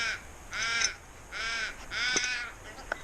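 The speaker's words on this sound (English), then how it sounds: "Birds are a bit noisy." Crows caw loudly and harshly in four drawn-out calls with short gaps between them, close by, with faint clicks in the background near a Land Rover Discovery Sport under repair.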